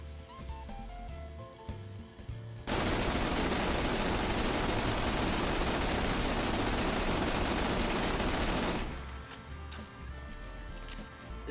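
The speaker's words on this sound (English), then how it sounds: "We're going to completely empty this gun." A gun in the shooter game Borderlands: The Pre-Sequel fired at full rate until empty, one dense, loud, continuous roar lasting about six seconds, with quieter background music before and after.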